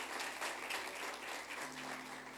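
Applause from a church congregation welcoming a visitor, a steady dense wash of clapping held at an even level throughout with no speech over it.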